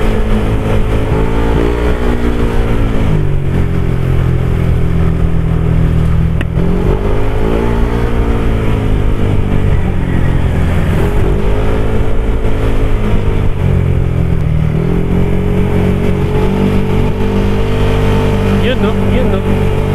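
Borrowed motorcycle carrying a passenger, pushed toward top speed: a loud, steady engine drone whose pitch rises and falls in long sweeps as it revs, with a voice talking over it throughout.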